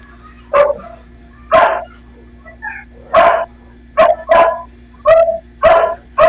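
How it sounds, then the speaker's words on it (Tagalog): A dog barks repeatedly at close range, loud short woofs in uneven bursts over a steady low hum. "Ang ingay kasi ng aso."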